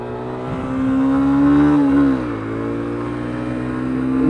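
A BMW car's engine drones close behind, rising in a sustained rev that swells and then eases back to a steady hum, loud and alone.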